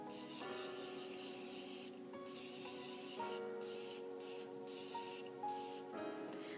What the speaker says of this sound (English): now I'm gonna take the Morphe Continuous Setting Mist and spray my face